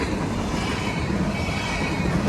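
A freight train carrying auto racks rolls past, a continuous rumble with wheel squeal and rattling cars, steady and close, with no voices.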